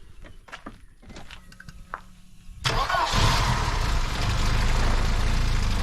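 A turbocharged car engine with K-Jet fuel injection cranks and fires after a few clicks and knocks, then settles into a steady, close idle.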